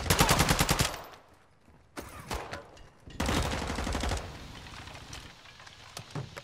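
Automatic gunfire in Call of Duty Warzone 2.0 DMZ rattles in rapid bursts: a loud close burst up front, then further clipped volleys after a short lull, with quieter rattling in between.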